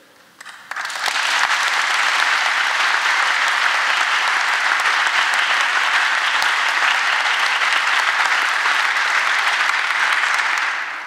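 A large audience at a university inaugural ceremony breaks into sustained applause, starting with a few claps and quickly swelling into a dense, even roar of clapping that holds for several seconds before tapering off.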